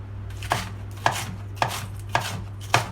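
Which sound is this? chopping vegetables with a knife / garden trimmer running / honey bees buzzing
chopping vegetables with a knife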